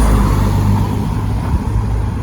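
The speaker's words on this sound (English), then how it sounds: "That is a garbage truck." A garbage truck rolls past on a street in Barbados, its loud, low engine rumble steady and close throughout.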